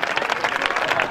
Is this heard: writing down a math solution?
no